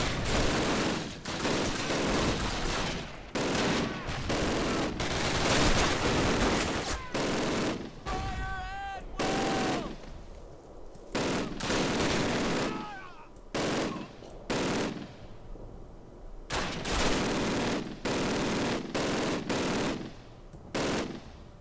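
An MG4 machine gun fires in the Call of Duty video game, with repeated loud bursts of rapid gunfire separated by brief pauses and a short warbling tone partway through.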